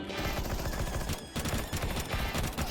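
Rapid automatic gunfire in a first-person shooter, dense overlapping bursts of loud shots firing continuously with only a brief pause, close and forceful.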